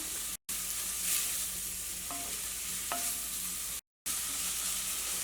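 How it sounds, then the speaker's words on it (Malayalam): Cabbage and carrot with turmeric stir-fried in an open pan, giving a steady close sizzle with a couple of light utensil scrapes and two brief dropouts, and no talking. "ഇങ്ങനെ തുറന്ന് വെച്ചിട്ട് തന്നെ ഒന്ന് ഇളക്കി കൊടുക്കാം, മൂടി വയ്ക്കണ്ട"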